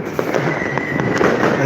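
New Year's fireworks bursting in a steady stream of sharp cracks and pops, several distinct loud bangs over a dense crackling background, close by and outdoors.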